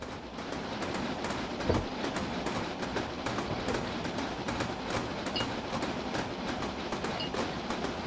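A steam locomotive runs along the Talyllyn Railway, with a steady rumble of carriages and rhythmic clickety-clack rail beats heard from inside or nearby at moderate loudness and without voices.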